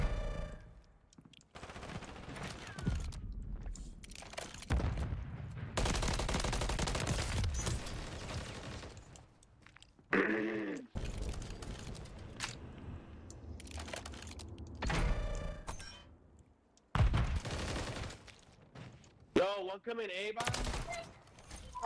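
Bursts of rapid gunfire from an Xbox shooter game in a ranked match, firing in clustered volleys with brief gaps between them, loud and close, with scattered faint game sounds in between.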